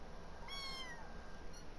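A kitten gives a thin, high meow, brief and close, over a faint background hum.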